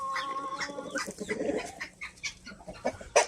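Chickens clucking and squawking in a backyard coop, several birds overlapping in busy, uneven calls at close range, with a louder squawk near the end.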